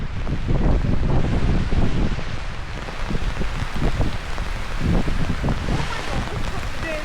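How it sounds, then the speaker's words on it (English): Strong storm wind gusts buffet the microphone outdoors in Eton and Windsor on a July day, a loud continuous roar with surging low rumbles and rain-like hiss throughout, no speech. "it's like a big storm blowing now"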